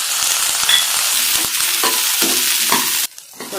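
Onion, curry leaves and soaked chickpeas fry and get stirred in a pan for a bean poriyal, a steady close sizzle broken by spatula scrapes and taps, then a brief drop toward quiet near the end.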